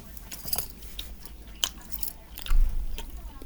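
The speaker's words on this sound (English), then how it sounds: "As I'm chewing on the Twizzlers." Someone chews orange dream cream-top filled Twizzlers twists, giving soft, close, intermittent wet crunches and bites with a louder burst of mastication toward the end.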